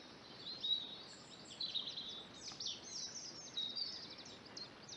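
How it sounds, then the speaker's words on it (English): Birds sing outdoors over open fields, with faint, scattered high chirps and trills drifting over a quiet background hiss. "I can hear lots of birds singing"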